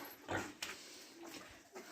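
Pigs grunting and snuffling while eating porridge, with soft wet chewing noises and brief bursts of rustling, fairly close and moderately quiet.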